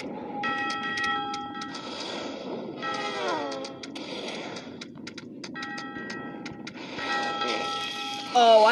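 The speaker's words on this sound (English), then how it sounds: "Wait, that train just came." Train in the video game Crossy Road: a bright, repeated bell-like warning chime rings out in bursts, fairly loud over the game's music and sound effects.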